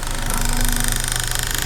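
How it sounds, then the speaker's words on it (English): The rear differential of a 2022 Hyundai Kona vibrates on a hoist after a tire swap, producing a steady mechanical drone and hum with engine noise, even and continuous without talk. "Rear diff, as you can see, that is vibrating hard."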